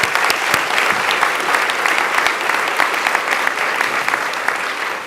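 A large crowd applauds steadily, dense continuous clapping that holds at an even, loud level throughout.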